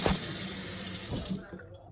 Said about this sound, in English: I'm going to be taking it over to the sink to cool it off.